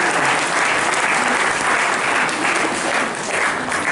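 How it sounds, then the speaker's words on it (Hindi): At a Navratri celebration held at Divya Sanskar Bhawan in Narsinghpur, an audience claps loudly and steadily, a dense, continuous applause that fills the whole stretch without pause. "इनके लिए ताली बजा दो।"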